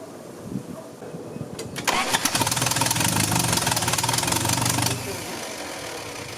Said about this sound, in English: The exhaust is leaking.